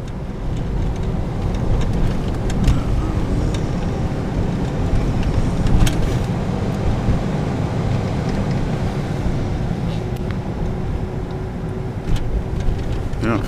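Lincoln car driving through Montreal streets in winter, a steady broadband road and engine rumble from inside the cabin, with occasional faint knocks and bumps over the drive and no talk.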